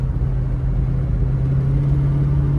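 A 1969 Shelby GT500 convertible with a 428 Super Cobra Jet Drag Pack V8 cruises gently, giving a steady low engine drone and rumble heard from inside the car with no speech.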